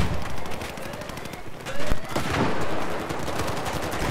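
An MG4 machine gun fires in Battlefield 4, giving a dense, continuous rattle of rapid shots amid other distant gunfire, with a voice speaking briefly over the din.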